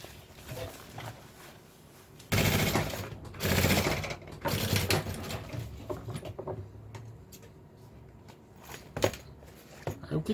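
A sewing machine stitches both sides of a lunch bag, with two loud close bursts of running early on, followed by softer handling clicks and rustling while a person talks intermittently.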